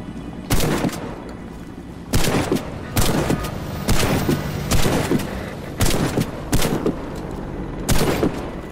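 Loud, close shotgun blasts from a pump-action weapon in the Warface video game, about nine sharp booming shots fired at a steady, slightly uneven pace with quieter ambient noise between them and no talking.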